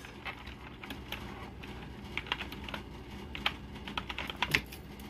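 Steady typing on a computer keyboard while entering text into design software, a run of close, crisp key clicks in uneven bursts, heard alone with no talking.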